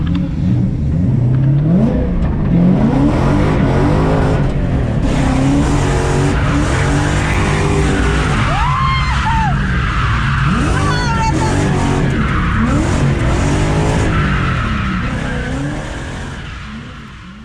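A car sets off at a track day and runs loud and continuous, its engine revving and roaring up close with some tire noise, while people talk over it.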